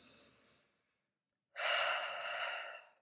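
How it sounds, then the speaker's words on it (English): A person takes deep breaths, close and soft: a fading exhale, a brief silence, then a longer, stronger breath drawn in. "Take some breaths, deep breaths."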